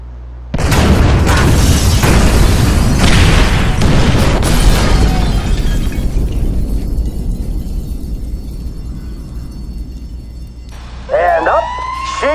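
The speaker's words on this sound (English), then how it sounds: "Detonate the incendiaries, Frank." Incendiary devices detonating in GTA 5, a loud booming blast that rumbles into a long decaying roar, with a wailing siren joining near the end.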